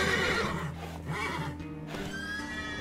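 Horse in The Witcher 3: Wild Hunt on Nintendo Switch giving a long, loud, shaky whinny that fills the clip, with hoof clatter and game ambience underneath.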